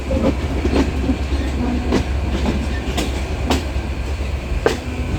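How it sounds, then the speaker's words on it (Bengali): Train departing and running on a morning journey, a steady rumble with rhythmic clickety-clack of wheels over rail joints, repeated sharp knocks every second or so, close and loud with no talk. "এখন ট্রেনটা ছাড়ছে"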